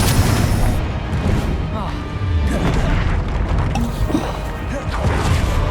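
Confringo spell explosions in the video game Hogwarts Legacy, loud booming blasts and crashing impacts repeating through the clip amid dense combat noise, with a voice speaking over them.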